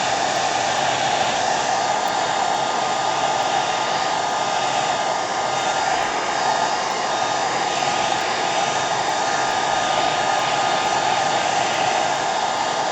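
Hair dryer on the cool setting blowing over a Gelli plate monoprint to dry it, a loud, steady, unbroken whooshing hum close by, alone for the whole stretch.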